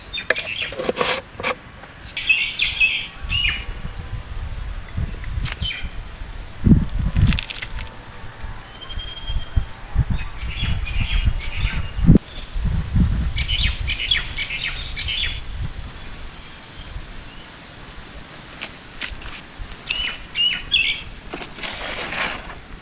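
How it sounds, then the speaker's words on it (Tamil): Mustard seeds and urad dal pop in hot oil in a clay pot, with scattered crackling spits and sizzle bursts that come and go, plus some louder clattering and faint voices. "கடுகு பொரிஞ்சிச்சுங்க."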